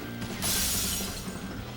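Enemy gauge smashed in the video game Resonance of Fate: a sudden bright shattering burst with a mechanical ratcheting texture, fairly loud, then fading into a steady game background.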